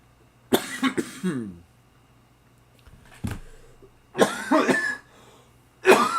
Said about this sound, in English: I've had a really bad cough for like 2 weeks now.